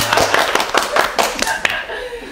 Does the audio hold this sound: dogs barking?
no